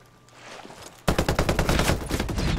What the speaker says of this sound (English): I hear gunfire.